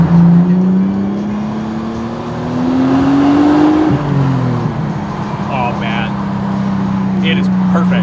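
A car driving smoothly, its engine holding a steady hum that rises gradually, dips briefly after a gear change, then settles, close-up from inside the cabin while people talk over it.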